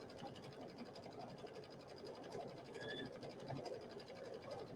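An embroidery sewing machine stitches out a quilt design, giving a steady, continuous mechanical whir with fast rhythmic needle pulses at moderate, even loudness from nearby.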